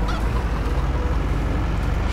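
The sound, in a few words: chickens in Farming Simulator 22 video game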